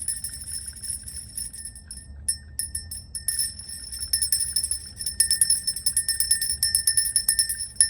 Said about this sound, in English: let me ring my angel bell.